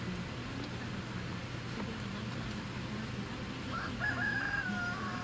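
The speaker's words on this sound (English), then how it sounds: "That's a chicken." A chicken crows at a distance, rising near the end over a steady outdoor background hum, with no talking.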